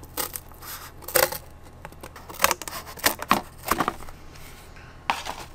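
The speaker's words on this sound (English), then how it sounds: "So I'm going to cut this." Scissors snip through corrugated cardboard at a table while making pen and pencil holders, giving a series of crisp, irregular crunching cuts up close, several in quick succession with short pauses between.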